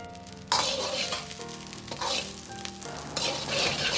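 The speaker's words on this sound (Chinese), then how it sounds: "把米饭炒透炒散，炒至粒粒分明，颜色黄亮" Rice stir-fried in a wok for soy sauce fried rice, a loud close sizzle swelling and easing as the spatula tosses and scrapes in repeated strokes, with no talk.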